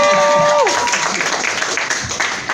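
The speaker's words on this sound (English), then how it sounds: "Round of applause for everybody" Crowd applause at the closing ceremonies of the Fur Summit 2018 convention, a dense wash of clapping and cheering from many people nearby, after a brief falling tonal sweep at the start.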